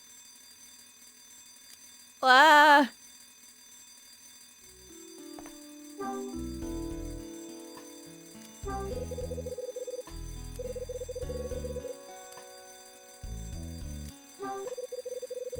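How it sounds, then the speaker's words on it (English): Fire alarm bell ringing in the video game Last Window, a single loud burst of clanging near the start, followed by game music and sound effects with a brief exclamation. "Now the fire alarm's ringing."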